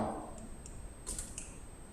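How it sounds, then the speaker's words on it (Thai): Several light computer keyboard clicks are typed quickly during a Photoshop editing session, faint separate taps in a quiet room. "ให้ใช้คำสั่ง Ctrl J ที่คีย์บอร์ด"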